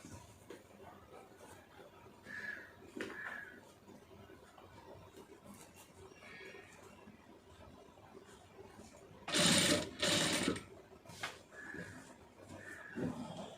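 A sewing machine stitches piping in short, separate bursts, with one louder, rapid run of stitching in the middle of the stretch.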